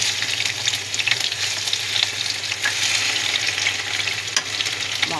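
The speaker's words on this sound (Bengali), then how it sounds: "আলুটাকে ভাজা বসিয়ে দিয়েছি," Potatoes fry in a hot pan with a loud, steady sizzle throughout, broken by occasional stirring scrapes and crackles, and no voices.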